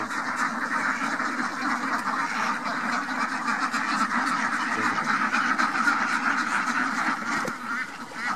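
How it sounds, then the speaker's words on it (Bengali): A flock of about 450 Khaki Campbell ducks on a duck farm quacks continuously at moderate volume, many overlapping calls forming a constant, busy chorus. "450 অরিজিনাল খাকি ক্যাম্বেল হাঁস।"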